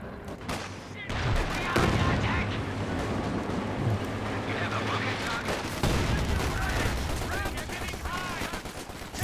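Steady machine gun fire and booming light artillery blasts rattle through a Company of Heroes 2 battle, loud and continuous with a voice talking over the combat.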